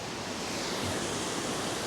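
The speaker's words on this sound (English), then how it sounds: "Wow, the Linn Falls waterfall." Linn Falls waterfall pours in a steady, dense broadband rush, a constant close roar of falling water with no other sounds.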